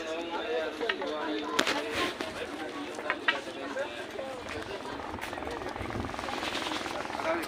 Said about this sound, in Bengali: একটা হেলিকপ্টার আসছে,